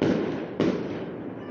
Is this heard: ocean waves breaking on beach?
no